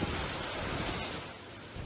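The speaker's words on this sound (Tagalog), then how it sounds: "Magkahalong ulan at hangin naman ang nanalasa sa West Bengal State sa India" Heavy rain driven by wind during a storm over West Bengal, India, a dense, steady hiss that fills the whole clip and eases slightly toward the end.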